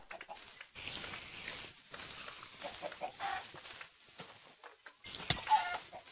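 Minecraft chickens cluck in scattered bursts amid clattering game noises and thumps, moderately loud, with no speech.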